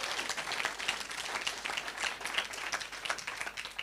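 An audience at the closing of a 40th-anniversary forum applauds, dense sustained clapping from many hands at moderate distance, steady for the whole stretch.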